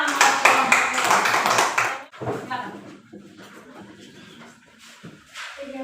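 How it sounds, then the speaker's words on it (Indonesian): Clapping in a classroom after a lesson on causes of respiratory disorders, a loud burst of many hands for about two seconds, then quieter shuffling, taps and scattered voices. "Ya, tepuk tangan."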